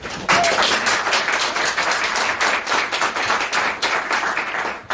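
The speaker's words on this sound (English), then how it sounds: "round of applause for Claire, please" Audience applause at the Future 2024 conference as the host is welcomed, a dense, steady wash of many hands clapping throughout at a fairly loud, even level.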